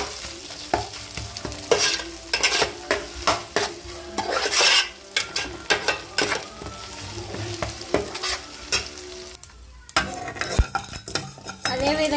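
Ginger garlic paste and green chillies frying in a pan, with a steady sizzle and repeated scraping, stirring strokes of a spoon against the metal, fairly close and loud, with no talk.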